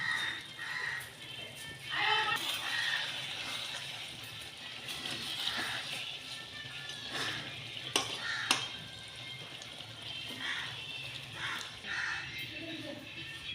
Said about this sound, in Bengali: আলুটা দিয়ে আরেকটু কষিয়ে নিয়ে ঢাকনা দিয়ে দেবো।